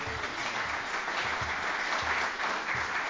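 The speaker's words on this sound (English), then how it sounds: "Can we give him a big round of applause for moderating today?" A conference audience gives sustained applause for the moderator, a dense steady clatter of many hands clapping at moderate distance with no voices over it.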